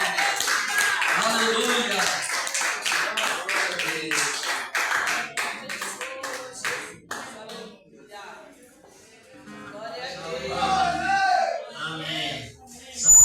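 Church congregation clapping in rhythm during a worship service, dense sharp claps carried with loud singing and speech for most of the stretch before thinning toward the end.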